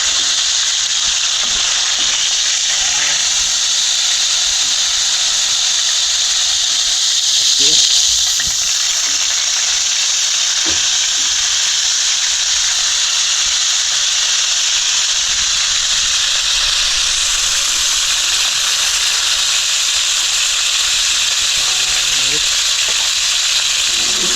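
Food cooking over a strong fire crackles and sizzles loudly and continuously for the whole stretch, a dense hiss of frying oil with occasional stirring clatter, close and steady.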